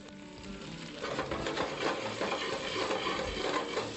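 Diced squash sweats in a pan, giving a soft, steady sizzle with occasional scraping and clinking as a utensil stirs it now and then; quiet and close.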